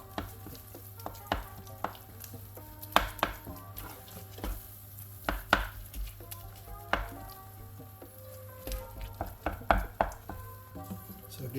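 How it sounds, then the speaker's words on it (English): Latik coconut curds stirred in a pan with a spatula, giving irregular scraping and knocking strokes over a faint steady sizzle, close up with no talking. "You have to keep on stirring until the latik is properly distributed."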